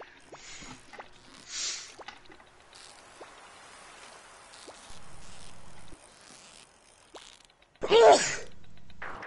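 A single sharp sneeze bursts out loud and close near the end, following scattered clicks and quiet background sounds.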